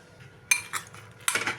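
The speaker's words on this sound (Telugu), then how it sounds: "ఇప్పుడు మిక్స్ చేసుకుందాం" Crispy fried sweet corn tossed in a bowl with a spoon, two quick bursts of clinking and scraping against the dish, close and brief, no voices.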